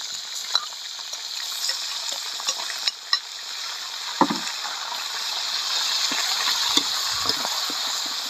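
Ground pork stir-fries in a pan for a Thai khanom sen pork noodle sauce, giving a steady close sizzle with soft scraping stirs and a few clinks of a utensil against the pan.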